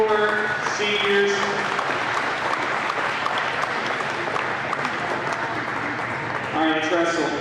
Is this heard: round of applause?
yes